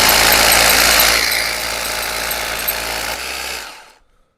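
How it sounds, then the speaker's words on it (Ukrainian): A cordless ELTOS PA-20/26DFR BL rotary hammer runs with no load with a loud, steady whir, then spins down and cuts out, leaving silence. "Так, на холостому ходу вам зараз покажу спочатку."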